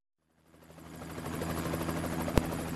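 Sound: helicopter in Minecraft video game

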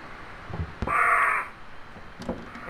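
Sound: crows cawing in Home Sweet Home video game

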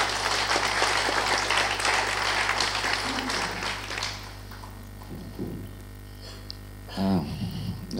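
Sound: audience applause at a business forum

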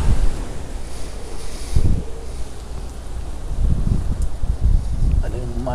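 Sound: strong hurricane wind

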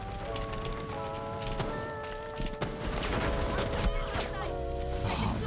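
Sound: gunfire from the Rainbow Six Siege video game

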